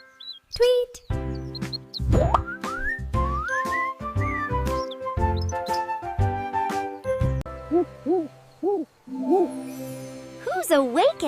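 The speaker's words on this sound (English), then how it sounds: "It's an owl." An owl hoots in a series of short, clear calls that rise and fall in pitch, with other whistling bird or animal calls mixed in and a voice briefly present near the start.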